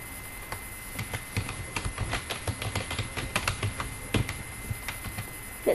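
Brisk typing on a computer keyboard while writing in MS Word, with irregular bursts of close, crisp key clicks and occasional heavier strokes, heard alone over a faint background hum.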